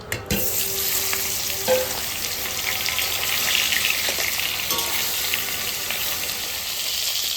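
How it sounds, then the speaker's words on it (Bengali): Snakehead fish sizzles steadily in hot oil, a continuous bright hiss with a few soft clinks and pops near the start. "আমার শোল মাছ ভাজা হয়ে গেছে একটু হালকা করে ভেজে নেবো"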